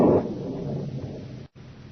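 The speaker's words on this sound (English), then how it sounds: "Just distant thunder." A low, rumbling roll of distant thunder, loudest at the start and fading into a steady dull murmur, with a brief gap of silence near the end.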